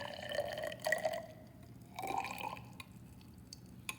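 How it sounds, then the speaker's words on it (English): Hydrogen peroxide poured into a glass graduated cylinder in a lab, with faint liquid filling and dripping sounds in short bursts followed by a few small clinks, quiet and close. "Next, I'm going to pour anywhere between 40 and 50 milliliters of hydrogen peroxide into my graduated cylinder."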